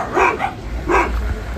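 Three dogs bark in two short bursts, a couple of yips close together and then another after a pause, with some background noise underneath, in an Indian village.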